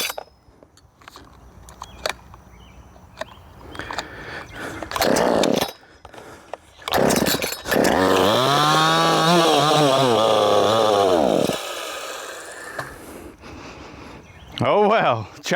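A ported Wemars 6220 chainsaw fitted with a 372XP carburetor is pulled over several times with rattling cord tugs, then roars to life and revs loudly for a few seconds before dying. A short burst comes later, and a person speaks now and then.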